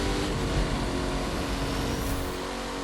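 A car in the racing video game The Crew 2 fires its nitro boost, producing a sustained engine roar with a steady high whine. The sound is continuous and fairly loud, with no talking over it.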